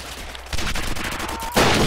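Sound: gunfire from semi-automatic rifle in Roblox video game

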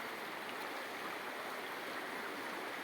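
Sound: flowing river water

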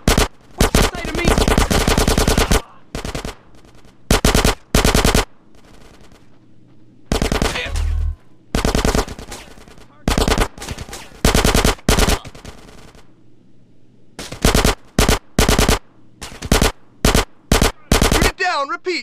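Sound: machine gun fire in the video game GTA San Andreas

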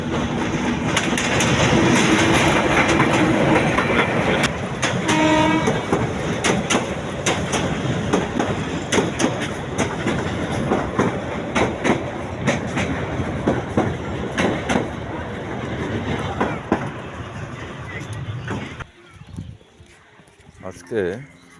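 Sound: Ramna local passenger train running

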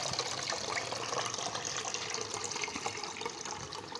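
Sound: water poured over ground crab shells and strained

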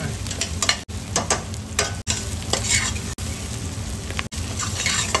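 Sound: vegetables and spices frying and stirred in a pan for butter chicken

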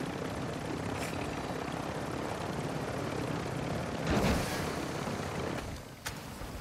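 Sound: helicopter flying in DMZ (Call of Duty) video game

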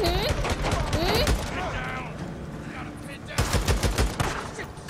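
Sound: gunfire in the video game Days Gone

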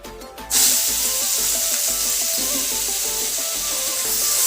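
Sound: boiled bottle gourd frying and stirred in pan with five-spice

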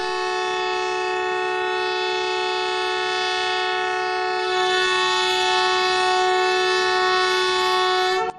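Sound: export trains departing with horn sounding

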